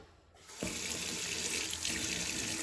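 Lukewarm or cold water runs from a tap to fill the reservoir of an Ariete steam iron. After a brief quiet start, it becomes a loud, steady, close-up rush of flowing water.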